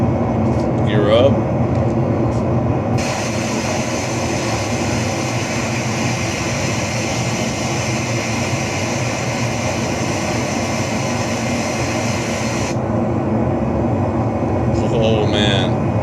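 A B-2 Spirit stealth bomber in a flight simulator, departing from Edwards (KEDW) with its landing gear retracting: a steady, loud, broadband engine roar holds throughout, with brief speech at the start and end.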